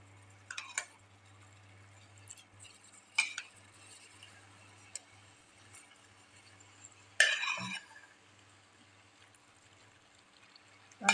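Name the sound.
adding cooked vegetables and mixing in bisibelebath pot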